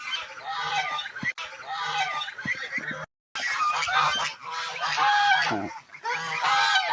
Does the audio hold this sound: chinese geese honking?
yes